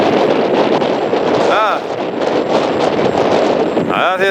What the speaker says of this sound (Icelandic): Það er smá vindur á kantinum.